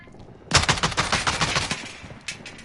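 A fast burst of automatic gunfire hip-fired in the video game Call of Duty Modern Warfare, about a dozen sharp close shots in a rapid stream, then two quick follow-up shots.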